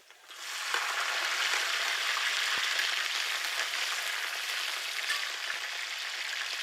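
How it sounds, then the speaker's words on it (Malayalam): Chopped ginger and green chilies drop into hot oil and burst into a loud, steady sizzle that holds evenly, close up, with no talking. "എണ്ണ നന്നായിട്ട് ചൂടായിട്ടുണ്ട് ഇതിനകത്തോട്ട് കുറച്ച് ഇഞ്ചി ചെറുതായിട്ട് അരിഞ്ഞത് ഇടുക"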